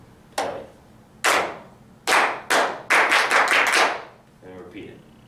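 Several sharp hand claps in a rhythmic pattern: two spaced claps, then a quicker run of claps ending in a rapid burst, each crisp and close, followed by a faint murmur of voices.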